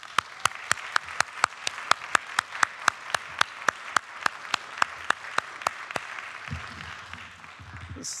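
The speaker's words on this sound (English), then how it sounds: "Please join me in a round of applause for all of our recipients." Audience applause for award recipients at a university staff recognition ceremony, heard as a steady run of distinct claps over a soft bed of wider clapping that fades near the end.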